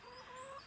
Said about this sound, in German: Darf ich vorstellen, das ist mein Huhn.